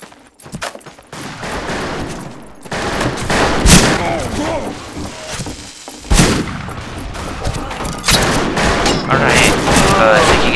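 Gunfire in the Western shooter Fistful of Frags, with loud shots and bursts mixed with booming blasts and game noise, and a voice talking over parts of it.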